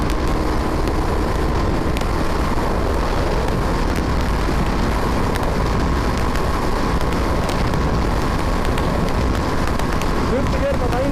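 A BMW 310R motorcycle engine held at full throttle in fifth gear, a loud, steady, continuous drone with rushing wind noise throughout and no letup.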